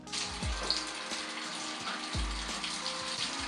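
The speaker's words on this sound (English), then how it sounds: "I'm just gonna add hot water to this bucket and we're gonna wait for all this food to thaw" Hot water runs from a tap into a bucket in a snake room, a continuous hissing, splashing gush heard close and alone with no voices.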